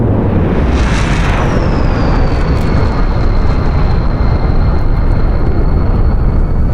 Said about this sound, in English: The afterburner is still burning away there.